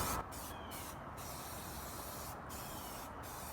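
Spray paint hisses from an aerosol can in a steady, close, continuous spray that runs almost without pause, with a few very short breaks.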